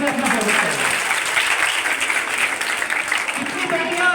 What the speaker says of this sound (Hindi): एक बार अपने लिए जोरदार तालियों से अपना स्वागत करें।